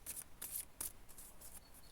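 Close, crisp riffling of a small deck of divination cards shuffled by hand, a quick series of papery bursts with brief pauses, no talking.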